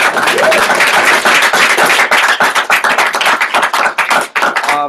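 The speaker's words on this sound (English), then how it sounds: "can we give yourselves a round of applause" A meeting group gives itself a round of applause, with loud, close, dense clapping from many hands that continues steadily and turns into scattered claps near the end.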